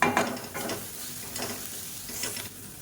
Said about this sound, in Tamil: கொத்தமல்லி சேர்த்துட்டு நல்லா வதக்கி விட்டுக்கலாம்